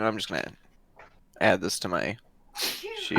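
A single sharp sneeze bursts out near a table of tabletop role-playing game players, set among casual conversation before and after.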